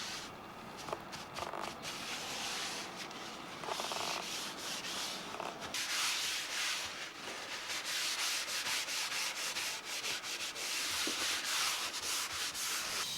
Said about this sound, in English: I brushed it on, let it soak in for a while, and then buffed it off.